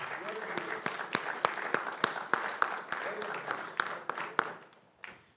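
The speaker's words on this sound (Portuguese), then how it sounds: "Quantos podemos aplaudir ao Senhor por essas 2 bênçãos?" A church congregation applauds during a service, a series of sharp, fairly faint claps with scattered louder hits that thin out and stop near the end.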